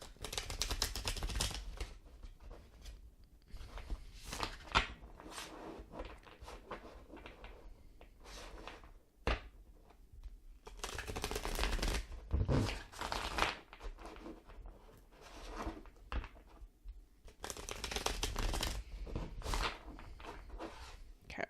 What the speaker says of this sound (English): So we're going to shuffle this deck and pull our last card.